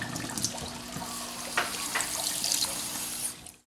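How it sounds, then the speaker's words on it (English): Soaked rice being washed under running tap water in a kitchen, a steady close splashing and trickling with small clinks, stopping abruptly at the end. "I've soaked the rice for about 2 to 3 hours. And I'm washing it."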